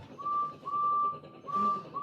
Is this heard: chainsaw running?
no